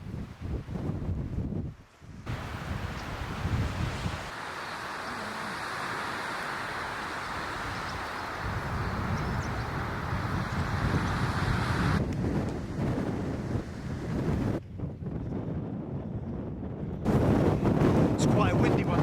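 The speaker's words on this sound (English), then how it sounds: "Quite a windy one today." Steady wind roars and buffets against the microphone for the whole stretch, loud and low, with brief gusty changes and no talking, on a hike toward Aviemore in the Scottish Highlands.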